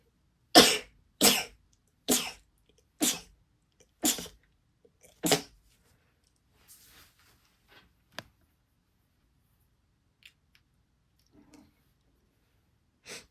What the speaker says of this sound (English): Pause for sneeze.